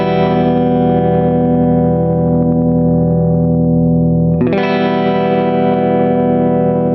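A sustained, heavily compressed electric guitar chord through a JHS compressor pedal plugin in AmpliTube 5, compression and blend at maximum, holds steady and loud, then a fresh strum re-attacks it, brighter and full with a thick, even tone.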